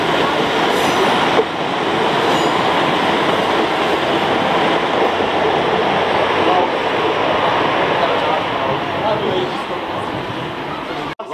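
A train rumbles past on the Midland Railway, a continuous loud roar of wheels and carriages close by for over ten seconds, steady throughout.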